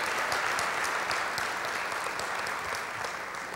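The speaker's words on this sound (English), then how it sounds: "would you give him a hand clap of praise right now?" A church congregation gives a sustained hand clap of praise, a dense wash of many hands clapping steadily and evenly, somewhat distant, with no talk over it.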